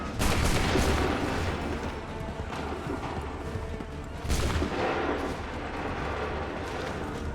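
Musket volleys and cannon blasts boom in the Assassin's Creed 3 game, two heavy volleys a few seconds apart, each dissolving into rolling, crackling gunfire and echoing rumble.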